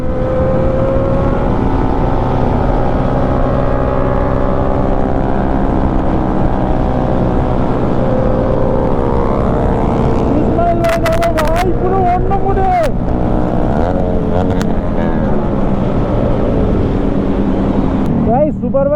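Motorbike engines drone steadily close by with heavy wind buffeting, as a Yamaha MT-15 rides together with superbikes, four bikes in all, briefly revving higher.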